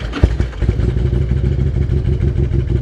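An older touring motorcycle engine catches with a sharp initial bang and settles straight into a loud, close, lumpy idle with a steady low thumping pulse.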